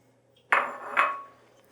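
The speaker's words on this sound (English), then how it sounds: "Now get this right into your dry ingredients and stir it around." Wet ingredients are stirred into dry ingredients for kolache dough, producing two sharp, close clinks of a utensil against a bowl about half a second apart, each ringing briefly before fading.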